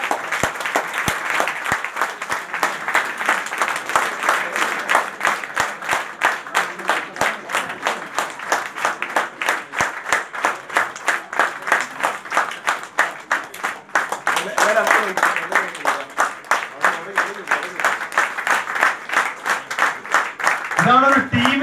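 Long round of rhythmic applause from an audience at a hall event honouring a team, claps falling in a steady unified beat that holds for many seconds, with a voice speaking partway through and near the end.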